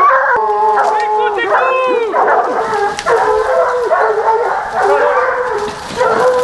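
Hunting dogs bay and howl during a wild boar hunt, several loud overlapping howls and yips close by, rising and falling continuously.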